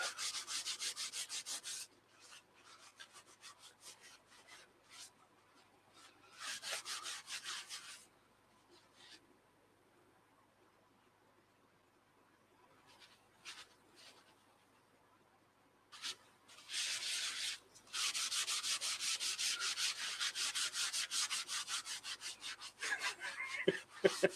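Turned ash end grain is polished with Yorkshire Grit abrasive in bursts of close, hissing rubbing friction, separated by quiet pauses with faint handling noise, ending in a longer stretch of steady polishing.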